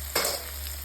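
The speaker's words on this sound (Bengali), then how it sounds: "এখন আমি ওই সেটটা আরেকটু ভেজে নেব।" Shrimp frying in an oiled pan, a short burst of sizzle with stirring that rises sharply, then settles into a steady hiss, close and fairly quiet.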